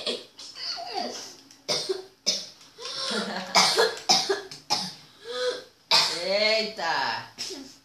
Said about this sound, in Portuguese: Riu tanto que deu tosse.